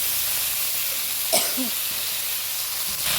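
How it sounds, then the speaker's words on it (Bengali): Green chili and onion fry in hot oil in a wok, giving a steady, close sizzling hiss with a brief clink partway through. "এদিকে কড়াইতে তেল দিয়ে কাঁচা লঙ্কা পেঁয়াজটা ভেজে নেবো"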